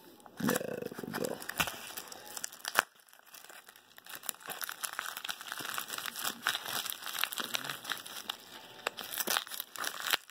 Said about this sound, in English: This one, just a pull tab. So, let me open this.